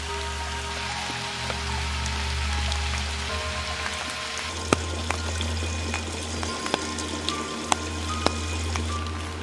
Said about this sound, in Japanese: 小川がありますね。